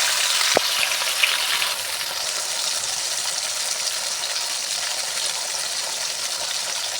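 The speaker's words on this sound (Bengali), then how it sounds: "তেল গরম হয়ে গেছে, এবার চিংড়ি মাছগুলো দিয়ে দেব।" Sea prawns coated in salt and turmeric fry in hot oil with a steady, close hiss. A sharp tap sounds near the start, and no one speaks.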